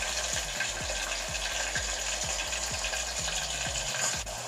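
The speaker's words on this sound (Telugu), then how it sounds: "ఉల్లిగడ్డలు ఈ విధంగా ఫ్రై అయిన తర్వాత ఇందులోనే అల్లం వెల్లుల్లి పేస్ట్ వేసుకోవాలి." Onions with ginger garlic paste fry steadily in a pan, a constant close sizzle with a series of soft rhythmic clicks or bubbling pops running through it, alone without talk.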